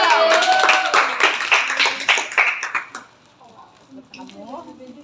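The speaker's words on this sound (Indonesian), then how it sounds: "tepuk tangan dulu" Students at a school clap their hands in a brisk, close burst that lasts about three seconds and then stops, followed by quieter talking voices.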